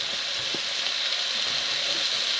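Steak frying in a pan gives off a steady, close, bright sizzle that holds even and unbroken, with a few faint knocks underneath.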